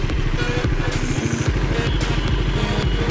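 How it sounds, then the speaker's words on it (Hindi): Bajaj Dominar 400 motorcycle exhaust, a loud, close, steady rumbling burble with rapid regular pulses throughout, heard on its own. "बजाज की इकलौती बाइक है जिसका एग्जॉस्ट का साउंड बहुत बढ़िया है।"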